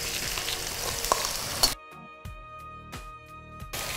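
Onions sautéing in oil for a seer fish curry: a close, steady sizzle for a couple of seconds that then drops to a quieter background with a few brief stirring bursts.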